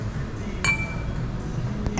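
Wine glasses clink together in a toast, one bright ringing chime followed later by a fainter tap, over a low steady room hum in an air-conditioned room.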